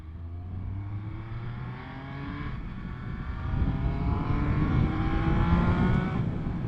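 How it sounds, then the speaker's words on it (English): A 2021 Triumph Speed Triple RS motorcycle engine blips its revs on a downshift, a steady close-up roar swelling into a brief rising blip, heard alone with no voices. "And that down blip is absolutely beautiful."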